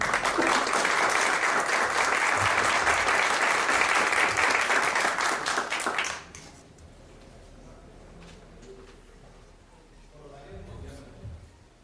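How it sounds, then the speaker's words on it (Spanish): An audience at a university inaugural lecture claps for a guest professor, a loud, dense round of applause lasting about six seconds that stops abruptly, followed by quiet room noise and faint talk. "Démosle un aplauso por su trayectoria y por su tiempo."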